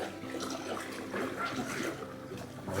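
River Severn water flowing steadily along a trout fishing stretch with rocks and deep pools, a close continuous rushing and trickling wash that rises and falls slightly.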